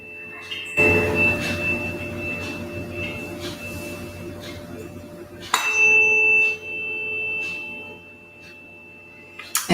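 A 432 Hz tuning fork rings with a steady, sustained pure tone. It is struck twice, once near the start and again about midway, and each strike rings on over a constant background hum.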